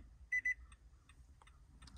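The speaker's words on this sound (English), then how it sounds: "Hear the beep." Two short, clear electronic beeps in quick succession from a 2013 Nissan during push-start smart key fob programming with a Launch Creader 919E scan tool, over faint background hum.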